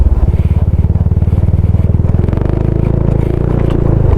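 A Yamaha NMAX motor scooter labors up a steep slope near a campsite in Tarlac, its engine throbbing in a loud, close, pulsing drone that holds steady throughout.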